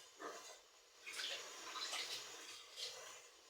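Water trickles and splashes into a pot of egusi soup (achi soup) in a home kitchen, a soft broadband pour coming in a few short surges over several seconds, close but fairly quiet, with no talking.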